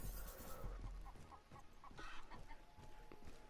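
A chicken in the video game Dead Ops Arcade 2 clucks in a few short, soft bursts over faint game noise.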